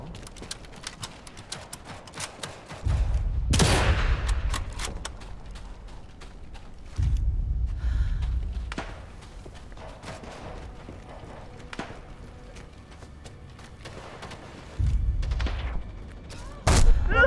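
Gunfire from the multiplayer video game Sniper Elite 5 on a beach map sounds in a few heavy booming bursts over a quiet background of faint clicks and movement noises.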